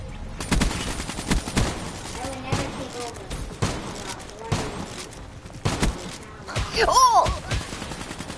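Bursts of gunfire from guns in Minecraft crack out in rapid, uneven volleys, some single shots and some clustered, fairly loud and close, with a person exclaiming briefly between them.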